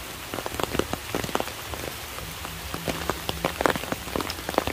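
Heavy rain falling outdoors near a graveyard, a steady close hiss with many distinct drops spattering on surfaces, with no voices.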